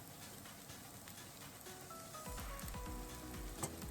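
Onion mixture with a crumbled stock cube sizzling steadily in a pan for Japanese taco rice, growing louder partway through as stirring and scraping strokes join the frying.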